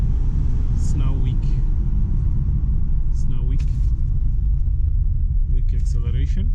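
A Mazda CX-5 with an overheating cooling problem accelerates weakly, giving a steady, loud low engine and road rumble inside the cabin that holds throughout, while someone talks over it.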